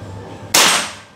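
One sudden, sharp shot from a Bocap Hacker 500cc double-tank PCP air rifle cracks out of a low hum, its hissing report fading over about half a second.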